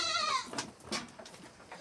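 Goats bleat inside a farm shed: one clear, quavering bleat opens the clip, followed by fainter scattered calls and rustling from the herd at moderate distance.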